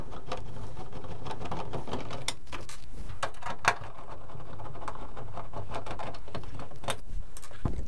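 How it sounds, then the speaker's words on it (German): Torx screws being worked out of the rear cover of a Bosch Siemens tumble dryer, with a run of small ratcheting clicks and sharp metallic taps close up, irregular and with no talk. "Um die Rückwand abzubauen, entfernen wir zunächst an dieser Abdeckung alle Schrauben."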